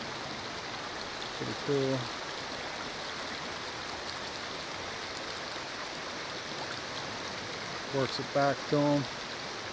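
A creek flows in a continuous rushing wash during fly fishing, with two brief spoken remarks over the water.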